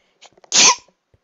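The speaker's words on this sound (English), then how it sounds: "I'm going to sneeze." A single loud, sharp sneeze bursts out after a few soft breathy sounds, then quiet follows.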